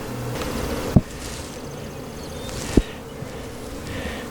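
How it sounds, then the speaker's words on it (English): A box of queenless honeybees during hive splitting hums with a steady, close buzzing, broken by two sharp knocks or clicks, with no talking. "There's a box of bees."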